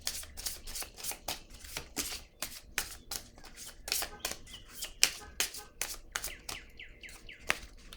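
Playing cards shuffled for a tarot-style reading: a rapid run of crisp riffling bursts, one after another in quick, uneven rhythm, close and fairly quiet, with no talk over them.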